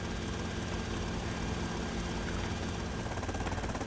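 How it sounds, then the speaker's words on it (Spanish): A police helicopter hovers in the video game Vice City, its rotor beating in a steady fast chop over a dense continuous engine roar, loud and close throughout. "Un helicóptero de policía."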